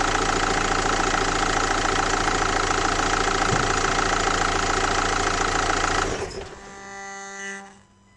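Renault Master 2.3 dCi diesel van engine idling steadily with a knocking, even clatter, close and loud, then shut off, after which the sound dies away into a short fading rattle.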